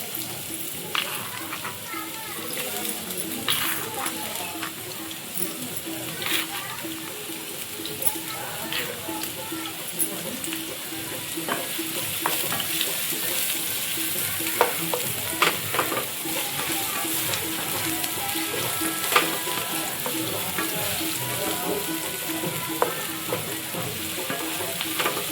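Chopped onion sizzles and crackles steadily in hot oil on a village stove, with repeated scraping stirs against the pan; faint children's voices sit in the background.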